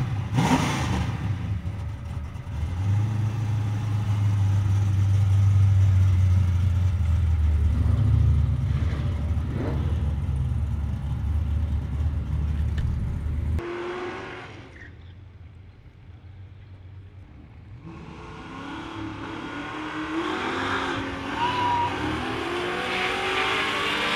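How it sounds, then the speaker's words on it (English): A flat black Chevrolet Nova drag car stages and launches at a dragstrip, its engine roaring loud and close for about thirteen seconds, then cutting off sharply before a more distant engine rises again, with no talking. "Getting ready to stage, this flat black Nova looked like it was ready to put on a show"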